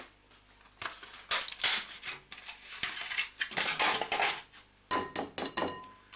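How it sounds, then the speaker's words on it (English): An egg is cracked against a bowl rim and dropped into butter and other ingredients while a Florentine slice mix is made, giving a few sharp close taps and clinks with short pauses between them. "Crack in an egg"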